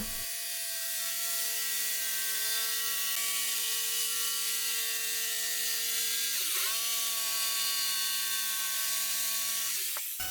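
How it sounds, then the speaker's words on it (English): A jigsaw cuts out a wooden stand top, a loud, steady buzzing drone with strong harmonics that briefly dips in pitch twice as the blade works through the wood. "And then moved on to cutting that out again with the jigsaw."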